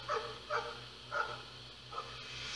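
A dog in a video game gives four short barks spaced about half a second apart, moderately distant and fairly quiet, over a low steady hum with no talking.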